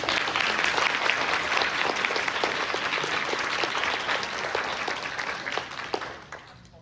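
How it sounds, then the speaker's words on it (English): Applause from a school board meeting audience honoring a fourth-grade student award winner, steady and sustained for several seconds before tapering off at the end, with no talking over it. "All right, round of applause."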